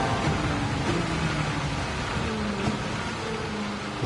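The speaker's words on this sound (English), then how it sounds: "Like even now where it's raining" Rain falling on the track in Gran Turismo 7 during a race in an S14 Silvia, a steady broad hiss mixed with a low engine drone throughout, with no voices.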